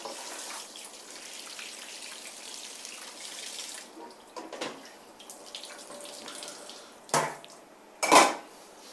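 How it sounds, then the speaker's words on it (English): Cold tap water runs into a kitchen sink over cooked food, a steady faint stream, followed by two sharp clanks of a pot or dish near the end. "I run cold water to cool it down and stop cooking."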